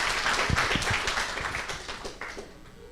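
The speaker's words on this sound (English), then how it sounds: "Give him a round of applause" An audience at a San Quentin prison film night applauds a man introduced on stage, with dense, steady clapping of many hands that tails off near the end.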